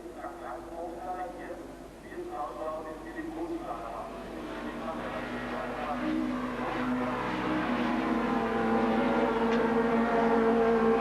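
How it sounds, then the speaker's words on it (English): Supertouring cars race at the 1994 German STW round at Zeltweg, engines droning continuously and growing louder, with a tyre squeal as brakes lock up. "And locking up of brakes there for Bergstaller."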